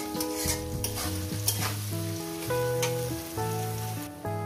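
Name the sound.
onions frying for chicken kosha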